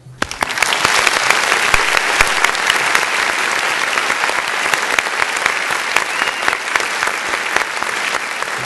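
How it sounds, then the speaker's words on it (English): Loud sustained applause from a large audience at an American Geophysical Union honors ceremony, dense clapping that starts abruptly and holds steady for several seconds, with no speech over it. "Let's give them a big round of applause"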